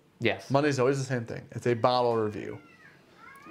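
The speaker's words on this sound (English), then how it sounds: "That is a cat, not a child." A house cat meows during a live bourbon whiskey tasting stream, a drawn-out cry following continuous talk, fairly faint in the background behind the voices.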